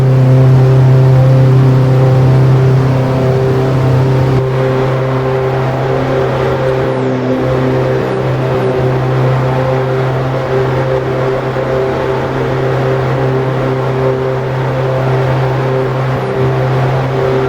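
A commercial vehicle's engine drones steadily through an overtaking manoeuvre in Assetto Corsa traffic, a loud sustained hum that holds its pitch throughout the whole stretch, with no voices.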